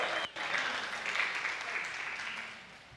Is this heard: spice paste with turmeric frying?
no